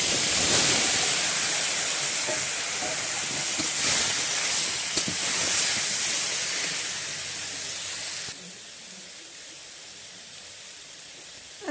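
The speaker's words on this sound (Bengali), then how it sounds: "এবার টমেটোর যেটা কেটে রেখেছিলাম এর মধ্যে দিয়ে দেবো" Chopped tomatoes hit hot oil with five-spice and chillies for a Bengali tomato chutney, bursting into a loud, spraying sizzle that hisses steadily and then drops sharply to a quieter simmer.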